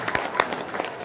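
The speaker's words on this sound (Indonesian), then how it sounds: "Tepuk tangan dong." Brief, close burst of audience applause with scattered sharp claps over a dense crowd murmur.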